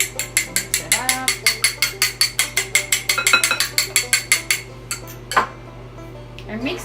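An egg and vanilla whisked in a bowl for chocolate fudge cookies, a fast steady run of close, loud rhythmic scraping clinks of the whisk against the bowl that stops after about five seconds, followed by a lone clink.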